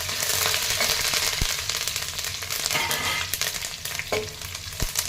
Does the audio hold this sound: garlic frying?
yes